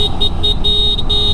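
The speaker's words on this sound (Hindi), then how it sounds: "हॉर्न की आवाज़ मैं आपको सुना देता हूँ, ज़्यादा खास नहीं है, नॉर्मल सी है।" Horn of a Honda Activa 6G scooter sounding in several short, close, loud beeps in an uneven rhythm, with no talking.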